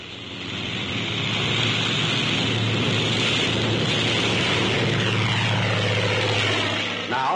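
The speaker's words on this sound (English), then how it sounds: "A carrier plane takes off relying solely on propeller thrust." A World War II US Navy carrier plane, 1944, takes off on propeller thrust alone, giving a loud, steady, close propeller-engine roar that holds for several seconds and then cuts off abruptly.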